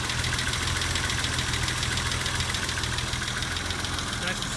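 A 1980 BMW 635 CSi Euro-spec engine idling steadily, a continuous even mechanical drone with a faint rhythmic ticking, recorded close with no pauses.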